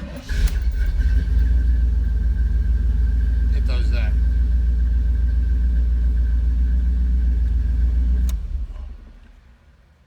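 A 1988 Camaro IROC Z28 engine starts and settles into a steady, deep idle rumble close by, holding evenly for several seconds before shutting off and fading, with someone speaking briefly.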